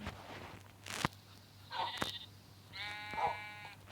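Sheep in the video game Minecraft bleat twice in short, wavering cries, fairly close, with soft footstep crunches and a few clicks between them over a low steady hum.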